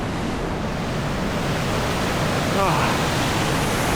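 Mountain river rushing under a stone footbridge on a hiking trail to Colchuck Lake, a steady broadband roar of flowing water close by, with a short spoken exclamation partway through.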